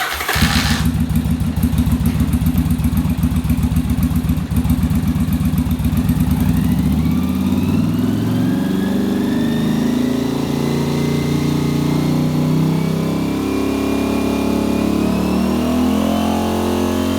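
A Yamaha Virago motorcycle engine cranks and fires up nearby, then settles into a steady, loud idle with slowly shifting revs during carburetor syncing.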